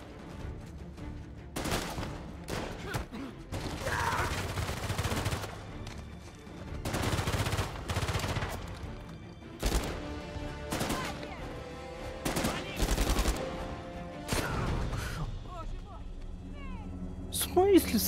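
Bursts of gunfire in Uncharted 4: A Thief's End, sharp repeated shots and rapid volleys coming in clusters at irregular intervals, with a player talking over the game sound.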